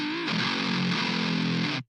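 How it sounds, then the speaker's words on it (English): A heavily distorted electric guitar plays a metal riff through a standard metal tone, loud and sustained with chugging palm-muted notes, then cuts off abruptly. "I have kind of a standard metal tone here."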